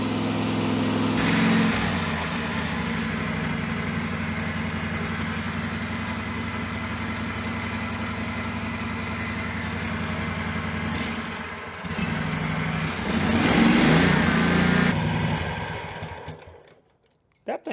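A Great Dane lawn mower engine runs with no air filter on an open carburetor in a lean condition, a steady close buzzing drone that surges louder briefly before stopping, with a voice speaking over it.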